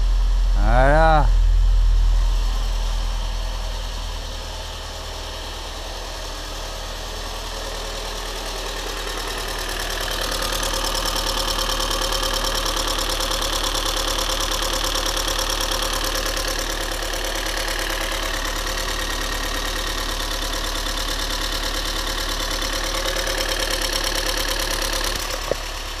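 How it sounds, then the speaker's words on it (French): A Renault Clio 16S engine idling steadily right after starting, with the valve lifters ticking until oil reaches them; a steady mid-pitched hum runs throughout, a brief rising tone near the start and a faint click at the end. "Le bruit, c'est normal, hein. C'est les poussoirs. Faut le temps que ça se réamorce avec l'huile."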